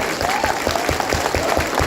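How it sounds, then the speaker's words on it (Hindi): A workshop audience claps hard together, sharp hand slaps landing in a fairly even rhythm throughout, loud and close with a faint voice underneath. "जोर जोर से तालियां बजाइए"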